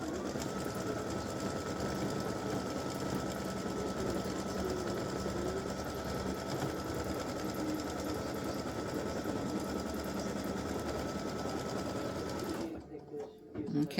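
An embroidery sewing machine stitches an appliqué design with a fast, continuous mechanical whirr at close range, then stops abruptly near the end.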